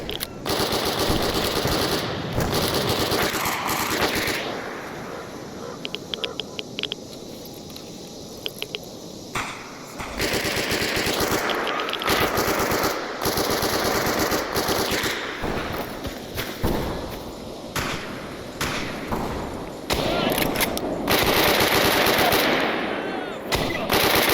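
Rapid bursts of automatic gunfire crack and rattle through a firefight in the video game Stalker Anthology, with dense volleys and short pauses between them and a few faint voices in places.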